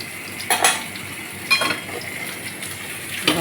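Fried potatoes go into a pot of meat with a few clinking metal clatters of a spoon against the pot over a low, quiet background, no talking.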